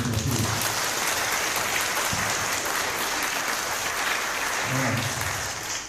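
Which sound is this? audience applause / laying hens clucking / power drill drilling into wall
audience applause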